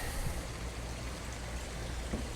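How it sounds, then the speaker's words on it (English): A pot of water boiling hard on a home kitchen stove while broccoli rabe is prepared, giving a steady, close, rushing bubbling hiss with no talk over it. "I've got my water going, probably a little bit more of a boil than I would like"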